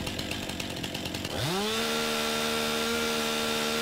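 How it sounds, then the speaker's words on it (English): A chainsaw in the Farming Simulator 2019 video game starts up after a brief rattling, revving quickly in pitch to a loud, steady idling whine that holds alone until the end. "Can we chop the bike in half the chainsaw?"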